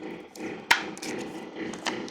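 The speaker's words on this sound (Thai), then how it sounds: "เที่ยงคืนยังมีคนเจาะอยู่เลย" Someone hammering or drilling nearby at midnight, heard as one sharp distant knock and a few faint thuds under low room noise.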